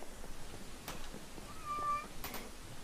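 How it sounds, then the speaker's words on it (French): A cat, Happy, gives a single faint, short meow in the middle, nearly lost under steady background noise and a few clicks, during a Minecraft livestream. "Mais arrête de faire miaou."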